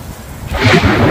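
A low rumble of thunder during a storm in Makkah swells up and rolls on, loud and close, with a steady wash of rain beneath it.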